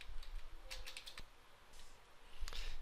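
Light, quiet typing on a computer keyboard, a few scattered key clicks entering text into a search box, with no talk.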